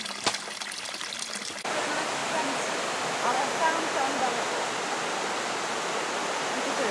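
Iron-rich spring water flowing along a stream into a trough, a steady splashing rush that starts faint and grows louder partway through, close by, with no talk over it.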